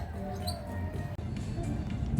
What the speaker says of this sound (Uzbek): Mana bu yerda to'tiqushlar mana sayrashdi.